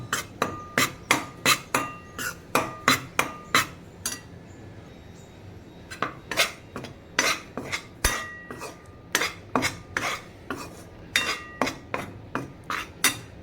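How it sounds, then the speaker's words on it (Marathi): A metal spoon clinks and scrapes rhythmically against a pan as gram flour roasts in ghee for besan laddu, with quick repeated strokes, brief pauses and no voices. "परत दोन चमचे तूप टाकून आपण आता पीठ भाजून घेतो"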